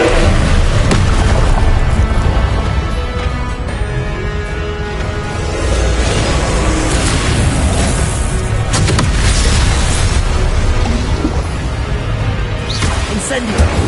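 Spell-casting effects in Hogwarts Legacy, fire and blasting spells: loud, continuous bursts, whooshes and booms with no break, under talk.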